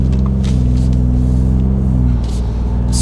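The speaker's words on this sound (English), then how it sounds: "So this is the EcoBoost Duals. And you know what? Man, super smooth exhaust note." Ford F-150 EcoBoost truck with an MBRP dual sport exhaust accelerating gently, a steady, smooth, deep exhaust drone held close and loud throughout.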